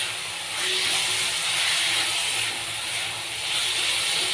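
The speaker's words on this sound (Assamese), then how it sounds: "অকণমান টাইম ভাজি দিম।" Capsicum and chicken pakoda mixture frying in hot oil, a loud continuous sizzling hiss that swells and eases in waves at close range, with no talk.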